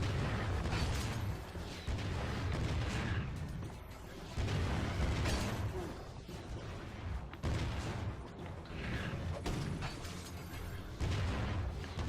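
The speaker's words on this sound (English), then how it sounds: "We're just chucking grenades at him." Repeated grenade blasts thrown at a boss in Ratchet & Clank: Tools of Destruction, dense and continuous booms with mechanical game effects layered over one another, loud and close throughout with no talk.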